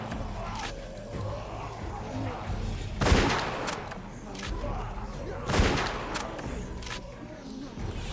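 Gunfire shooting zombies in a video game, loud bursts of shots with two heavy blasts over a constant rumble, while someone talks over the action.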